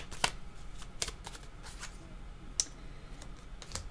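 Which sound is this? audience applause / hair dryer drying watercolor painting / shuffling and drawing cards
shuffling and drawing cards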